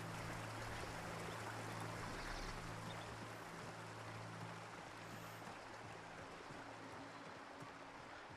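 Waterfall in the VR video game Journey: a steady, dense rush of falling water that holds even and continuous throughout, with a low mechanical hum beneath it.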